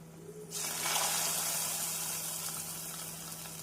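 Cashews and raisins fry in hot fat in a pan for semiya kesari, a sudden bright sizzle that flares up and then settles into a steady, close crackling hiss, with no talking.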